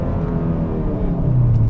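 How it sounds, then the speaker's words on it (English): A 2021 Hyundai Sonata N-Line 2.5T with a dual-clutch gearbox accelerates while its engine holds the revs, giving a steady, close droning hum that swells slightly louder near the end. "you guys will hear, this car will hold the revs"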